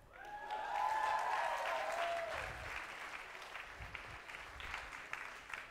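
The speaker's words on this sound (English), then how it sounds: "An applause." An audience applauding at an international school show, the clapping swelling quickly, then carrying on steadily at a moderate level without speech.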